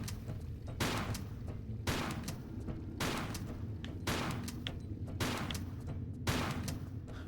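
Repeated gunfire in Tomb Raider IV: The Last Revelation, a series of roughly seven evenly spaced shots over a constant rumbling game background, moderately loud with no speech.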